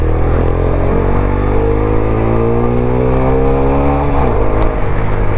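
A 2024 TVS Apache RTR 160 4V Dual ABS motorcycle engine drones steadily during a ride through traffic, loud and continuous, its pitch rising and falling with gear changes.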